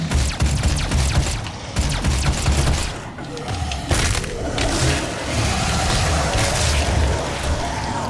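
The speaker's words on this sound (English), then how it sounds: "I guess it only takes like two or three shots from the pistol on the mini dudes to really hit him." Rapid pistol fire and heavy impacts crowd together in the Xbox One shooter DOOM, played on Nightmare difficulty, with the shots running dense and loud over a constant rumble of game noise for the whole stretch.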